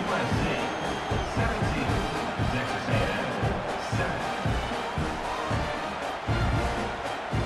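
A stadium crowd in the EA Sports College Football 26 video game roars and cheers as a continuous loud wash of noise, rising and falling slightly in waves throughout.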